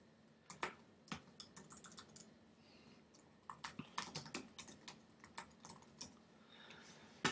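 Fingers typing on a computer keyboard, irregular bursts of light close keystrokes with short pauses between, quiet and with no talk.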